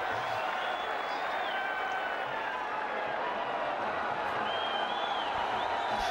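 A cricket stadium crowd at a Pakistan Super League qualifier between Quetta Gladiators and Peshawar Zalmi, cheering and applauding in a steady, dense roar with whistles rising through it, sustained throughout.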